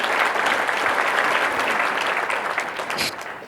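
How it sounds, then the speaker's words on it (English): A crowd applauds steadily with dense, sustained clapping that tapers slightly toward the end. "I'm gonna go ahead and applaud them for it."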